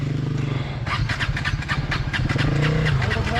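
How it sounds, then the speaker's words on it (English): A KTM 250 Adventure motorcycle engine runs steadily up close after a slide on a race track, a continuous low throb with rising revs and faint voice-like sounds under it. "I get back on the bike and go."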